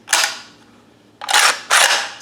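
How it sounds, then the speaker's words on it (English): A JTS M12 AK dry-fired: one sharp mechanical snap, then after a pause two more close, crisp clacks about half a second apart, alone in a quiet room. "Go ahead and just do a dry fire real quick."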